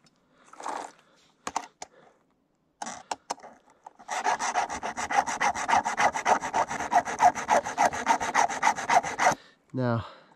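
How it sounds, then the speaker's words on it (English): A file rasps across a chainsaw chain in a quick touch-up sharpening. A few separate strokes come first, then a long steady run of rapid, close, loud back-and-forth filing strokes. "this is not the proper way to sharpen a chainsaw chain"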